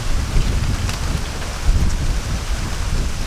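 Strong wind blows hard high up outdoors at a rural forest kitchen, making a loud, continuous low buffeting rumble with no talking.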